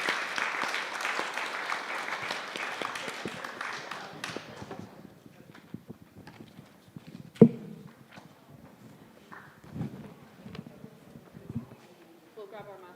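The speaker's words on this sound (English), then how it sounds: "Everyone, round of applause." An audience claps for speakers at a talk event: dense, lively applause that fades out over several seconds, followed by murmuring voices, footsteps and a sharp knock.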